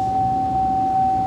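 Car warning chime sounding inside a vehicle during diagnosis of a no-start, no-crank, no-communication fault after an engine replacement: a steady, loud, pure electronic tone held continuously over faint background noise.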